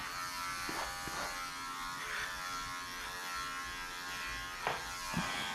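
Electric clippers with a 1/4 inch blade trim the feet of a matted Labradoodle, a quiet steady buzz with faint shifting tone and a few soft knocks as the blade moves over the paws.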